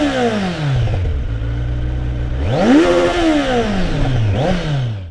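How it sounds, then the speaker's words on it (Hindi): A Kawasaki Z900 motorcycle engine revs hard, pitch climbing sharply then falling back, with a second shorter rev near the end; loud and close, no voices. "जी 900 की आवाज है।"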